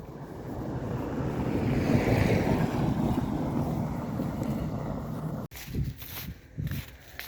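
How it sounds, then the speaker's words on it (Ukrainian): Steady roaring wind buffets the microphone for several seconds, a broad rushing noise, then cuts off into a few gusty thumps. "Сьогодні такий вітряний день"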